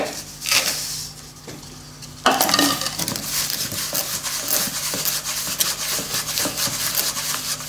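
Resin-bonded casting sand mixed by hand with the fingers in a container for aluminium casting, giving a steady close gritty rubbing and stirring with small scrapes, louder after the first couple of seconds.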